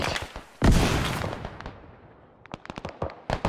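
Gunfire in the Arma military video game, a heavy close blast followed by a rolling echo, then a rapid scatter of sharper shots and bursts toward the end, with no talking.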